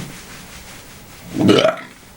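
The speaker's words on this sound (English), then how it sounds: "you took my burp." A single loud, drawn-out burp rises out of quiet room tone and fades after about half a second.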